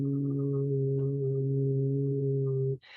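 A single voice holds a low, steady meditation hum like an om for nearly three seconds, rich in overtones and unbroken, before it stops abruptly and a short breathy noise follows.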